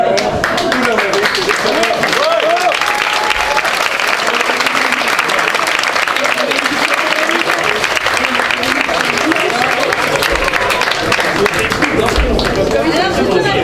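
Sustained applause from an audience at the final of a French debating championship, dense and loud throughout, with crowd chatter and voices mixed in beneath the clapping.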